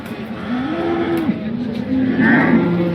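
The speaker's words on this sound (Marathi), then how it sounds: "आता आपण ही गाय कव्हर करतोय बघा." Cow lowing at the Sangola cattle market, one long drawn-out moo rising and wavering over a busy outdoor background of crowd murmur.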